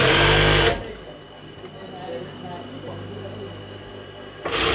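A sewing machine stitches the hem of a petticoat in a fast, steady whir that starts suddenly and runs close and loud for about four seconds before stopping.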